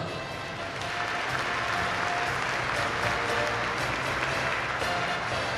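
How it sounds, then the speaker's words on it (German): An indoor audience at the Equitana horse show applauds the Black Forest chestnut horses, a dense, loud, sustained wash of many hands clapping that swells after the first second. "Großer Applaus."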